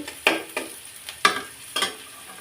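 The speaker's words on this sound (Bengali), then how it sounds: "এখন আমি যে রসুন আর পেঁয়াজ কুচি একটু ভাজি করে নিচ্ছি" Chopped garlic and onion fry in a pan with a little oil, ahead of adding water spinach. Four distinct stirring scrapes come at a steady pace over a soft sizzle, close by with no voices.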